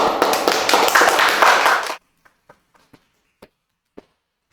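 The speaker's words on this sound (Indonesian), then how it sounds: "Tepuk tangan dulu dong." Audience of students and staff clapping loudly and steadily for two seconds, then stopping abruptly, followed by a few sparse, isolated taps and knocks in a quiet room.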